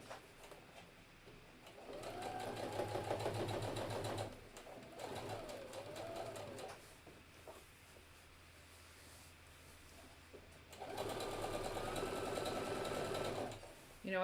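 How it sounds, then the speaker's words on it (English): A sewing machine top stitches a hidden zipper pillow in bursts of rapid whirring, running for a couple of seconds, pausing, then resuming, with someone talking quietly between runs. "I'm doing just a teeny, tiny top stitch to keep it in place"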